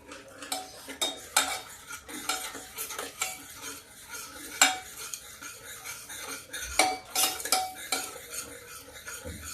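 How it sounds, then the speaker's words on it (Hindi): A spoon stirring masala with yogurt in a pan for baingan kofta curry, quick repeated metallic scrapes and clinks against the pan over a soft sizzle, close and rhythmic, with no talking. "इसको हम ऐसे ऐसे तेजी से चलाते रहेंगे जब तक फदकने न लगे"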